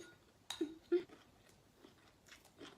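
Food being chewed while tasting it, soft close crunchy bites and a few wet mouth sounds in short bursts over quiet background.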